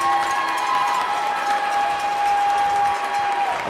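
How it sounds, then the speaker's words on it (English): A big, loud crowd roars continuously at a high school boys ice hockey playoff game at the Belmont, a dense wash of cheering and clapping with a steady high tone running through it. "A very loud playoff environment as of right now, Chris."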